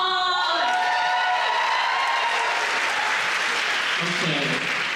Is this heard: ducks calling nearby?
no